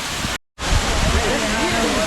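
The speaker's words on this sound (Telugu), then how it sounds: "ఇది వాటర్ ఫాల్స్ అయితే ఈ విధంగా ఉందన్నమాట" Katiki waterfall in Araku valley roars as a loud, steady rush of falling water, briefly cut out once, with a voice talking faintly under the noise.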